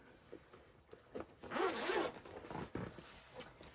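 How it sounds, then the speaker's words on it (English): A bag zipper drawn open in a card-making craft session with washi tape, one quiet continuous rasp lasting about half a second, close by and alone with no talk. "I'm going to get another bag out."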